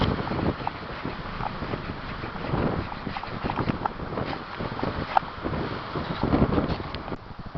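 Wind gusting steadily across a mountain campsite at night, a broad rushing roar that swells and eases with scattered rustles and buffets, no talking.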